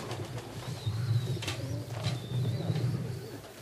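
Racing pigeons arrive at and land on a loft in Łochów, with soft cooing and faint wing flutters close by over a steady low background murmur.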